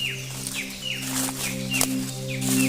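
Several birds chirping and calling in the heart of a forest near Katanubongan Cave in Lasam, Cagayan, with repeated high tweets over a steady low hum, fairly loud and close, no talk.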